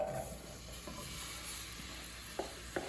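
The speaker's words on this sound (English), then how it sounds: "Listen to that sizzle." Apple pieces sizzle in melted butter in a pan while turnovers are being made, a quiet, steady frying hiss with a couple of small knocks from stirring near the end.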